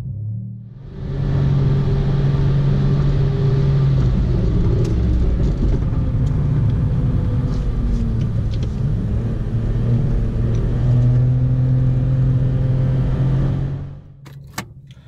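A car fitted with aftermarket downpipes is driven on a wet lap of the Nürburgring. Its engine gives a steady, loud rumble with rising and falling revs for most of the stretch, then fades out at the end.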